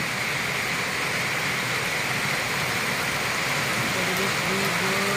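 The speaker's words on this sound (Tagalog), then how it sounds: "O yan guys, napakalakas ng ulan." Heavy rain falls in Palawan after days of stormy weather, a continuous hissing wash of close, dense downpour with a faint low hum underneath.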